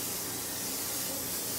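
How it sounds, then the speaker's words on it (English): Extra virgin olive oil spray hissing from a can into a lasagna dish, one steady close, loud spray burst lasting the whole moment. "I am just going to spray it with some extra virgin olive oil spray."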